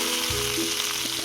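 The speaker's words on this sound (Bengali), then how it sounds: "এবারে কুমড়োগুলো ভেজে নেব।" Pumpkin slices sizzle steadily in hot oil in a pan, a dense close crackling hiss with faint stirring bumps underneath and no talking.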